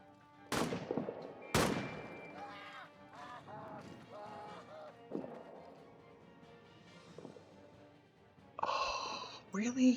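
Two sharp, loud rifle shots crack out early in a trench warfare video game, followed by a mix of game noises and in-game voices, with another loud burst near the end.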